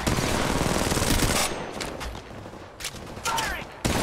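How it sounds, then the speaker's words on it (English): Gunfire in Apex Legends, a dense, loud stretch of rapid automatic fire that breaks off into scattered separate shots and short bursts, with a game voice line speaking over part of it. "I am taking fire."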